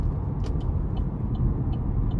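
A 2012 GMC Terrain SLE-2 with the 2.4 engine, at 199,000 miles, gives a steady, close interior engine and road rumble as it gets light throttle on a test drive, with no talk.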